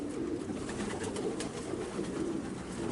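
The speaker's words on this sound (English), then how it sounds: "the birds love that type of setup where they can all get up there and fight with each other a little" Racing pigeons in a loft coo in a steady low murmur, many birds at once, with faint wing flutters and scuffling among them.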